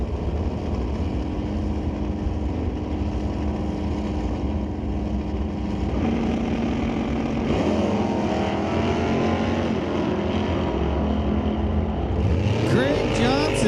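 A 1983 G-Body Monte Carlo Super Sport drag car with a 468 engine launches down the strip, its loud engine rising in pitch as it pulls away, with an announcer talking over it.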